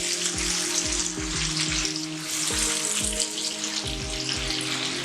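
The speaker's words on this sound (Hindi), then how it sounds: "थोड़ा थोड़ा पानी डाल के मसाले को सही भूनना है।" Masala spices roasting in a pan with a little water for white chickpeas (channay) sizzle and fry steadily, with a spoon stirring and scraping in repeated strokes; no voices.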